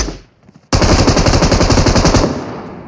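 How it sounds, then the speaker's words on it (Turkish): A loud, sustained burst of rapid automatic machine gun fire in a video game erupts after a brief quiet moment and rattles on for well over a second before fading. "Bak birine sıkıyor."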